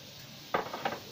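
Spoon stirring carrot halwa in a cooking pan, giving two quick metallic clinks about a third of a second apart against a quiet background hiss.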